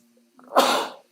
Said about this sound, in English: Flat Earth, it just makes me sneeze.